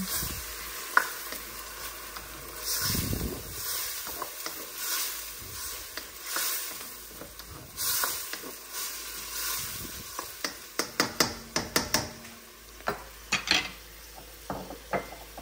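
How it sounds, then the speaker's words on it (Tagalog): A pan of Singaporean chili crab sauce with white wine vinegar is stirred steadily over a sizzle, a spoon scraping and clinking against the metal in a quickening run of sharp taps toward the end, with no talking. "haluin ulit natin"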